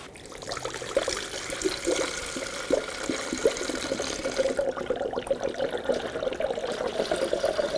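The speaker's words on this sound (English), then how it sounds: "It's going to bubble for a little bit as the coolant goes into the radiator, air comes out." Coolant bubbling and gurgling as it is poured into the radiator of a 1997-2006 Jeep Wrangler 2.4L, a steady close trickle with irregular small glugs as air escapes, no talking.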